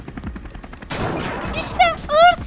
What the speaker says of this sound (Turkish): İşte ağır silah geldi. Tırmanmaya çalışan tüm zombileri vuracağım.